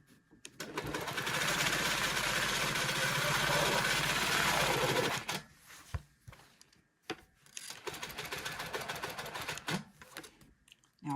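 A sewing machine stitches a ruler-guided cross hatch design into a quilt, running in a loud steady whir for several seconds, then continuing in shorter start-and-stop bursts.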